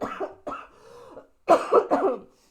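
Several hoarse coughs from a person getting over an illness, close and fairly loud, in two bursts: a pair, a short pause, then two or three more harsh coughs.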